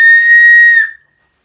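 Handmade waxed whistle blown once, a loud, piercing steady tone lasting under a second before tailing off abruptly into silence.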